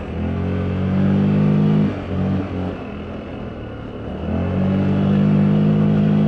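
Loncin XWolf adventure motorcycle pulling away under throttle, its engine revving up in a strong low rumble, dipping briefly between gear changes before climbing again, close and loud with no talk.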